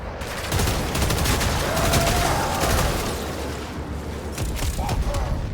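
Dense gunfire and explosions roar through a Warframe video game battle, a loud continuous barrage of rapid shots and booms filling the whole stretch, with a player talking over the din.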